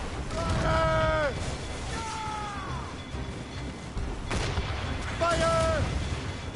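Ship cannons roar in a naval battle in Assassin's Creed Rogue, several heavy booms in a loud, continuous din of shouting crew, with whistling projectiles and bursts spread across the passage.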